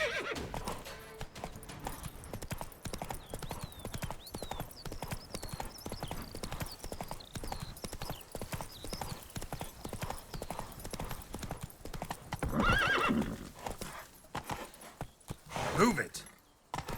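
Horse hooves clip-clop at a steady gallop in The Witcher 3, joined by a couple of whinnying neighs late on, set among background game sounds and voices talking.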